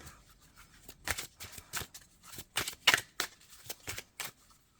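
Tarot cards being shuffled and drawn, a run of dry papery flicks and slaps in uneven bursts, close and fairly quiet with no talking.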